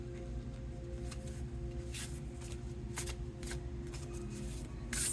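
Playing cards are shuffled several times in quick riffling bursts, close and fairly quiet, with brief pauses between. No voices.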